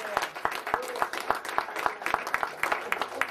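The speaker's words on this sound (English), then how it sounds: "You give him a round of applause." Audience applause for a speaker at a lecture, with scattered individual claps standing out sharply over a steady, fairly close patter of many hands, continuing throughout.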